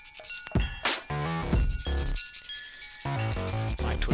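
A pencil tortillon rubbed clean on a small sanding pad: quick scratchy strokes in short bursts, close and fairly loud, with no talking.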